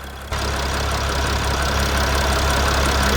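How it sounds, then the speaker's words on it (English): A Mercedes Sprinter van engine with a leaking oil cooler idles steadily after a brief quiet start, a continuous low rumble with a faint rattling knock, close and fairly loud. "now I'm gonna turn off"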